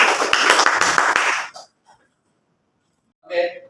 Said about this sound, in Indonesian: Bagus sekali, tepuk tangan untuk kita semua.